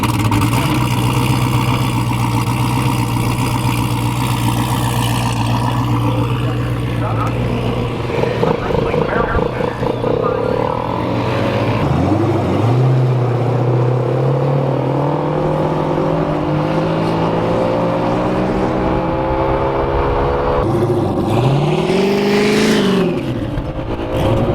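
A drag race car engine idles loud and close, then revs and pulls away with rising and falling sweeps as it is driven to heat its tires, voices talking over the engine at times.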